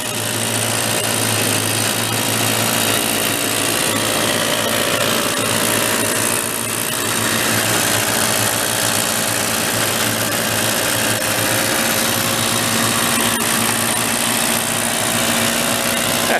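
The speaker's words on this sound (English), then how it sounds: "Let it run for a second with the choke on it." A 1970 Benelli mini bike's small engine runs steadily with the choke on, a loud, continuous buzzing drone with constant vibration throughout and no talk.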